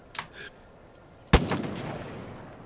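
Gunfire in Far Cry 5: a couple of light early pops, then one loud, close shot that rings out and decays into a lingering rumble.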